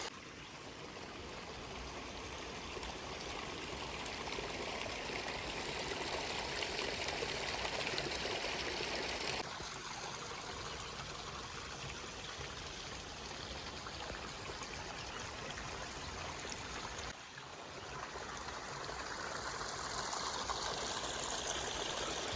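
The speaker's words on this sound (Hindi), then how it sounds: "यहाँ पे गर्म पानी आ रहा है एकदम बढ़िया" Steady rushing hot spring water flows continuously, a broad even wash of sound with no voices, like a stream running close by.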